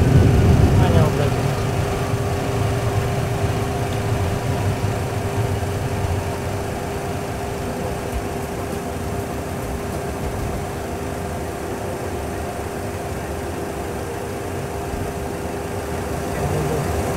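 An airliner decelerates on the runway after landing at Mykonos, giving a steady loud rumble and roar of engine and cabin noise that eases slightly as it slows, with talk heard under it.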